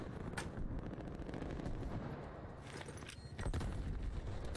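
Gunfire and explosions in the tactical shooter game Rainbow Six Siege, with dense, loud bursts of shots and booming blasts running continuously, a few sharp cracks standing out above the din.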